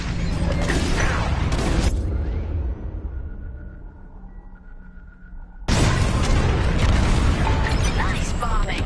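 Bombs exploding during a bombing raid in the Star Wars: Squadrons video game, loud booming blasts with rumble that drop to a quieter mechanical hum, then resume with another heavy explosive roar; voices may be present.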